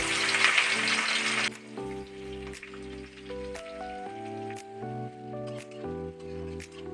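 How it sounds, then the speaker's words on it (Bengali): Sliced onions drop into hot oil already seasoned with bay leaf, chilli, cinnamon, cardamom and clove, giving a loud, hissing sizzle for about a second and a half before music takes over. "এবার আমি ওই তেলের মধ্যেই কেটে রাখা পেঁয়াজগুলো দিয়ে দেবো।"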